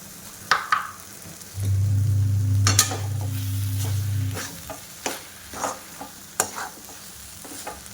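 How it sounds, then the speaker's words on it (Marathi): Tomato chutney with crushed peanut powder and red chili frying in a pan, with a loud low hum for a couple of seconds followed by intermittent scraping stirs and light sizzling. "यानंतर आपल्याला 5 ते 7 मिनटं फ्राय करून घ्यायचे आहे शेंगदाण्याचा कुट्टा घातल्यानंतर"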